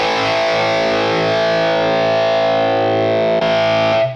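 A loud electric guitar chord through a Boss Katana amp's Distortion Plus effect rings out and sustains, buzzing and saturated, then is struck again and cut off at the end.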